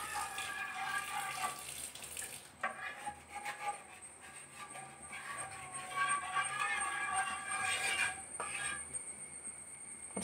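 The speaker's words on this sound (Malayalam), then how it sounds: "കുറച്ച് വെള്ളം കൂടെ ഒഴിച്ചു കൊടുക്കാം." Water is poured into beef curry gravy in a cooking pot, a steady close splashing and trickle that runs for several seconds, pauses briefly and resumes.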